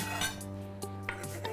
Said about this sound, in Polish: Wrzucamy do garnka pokrojone warzywa.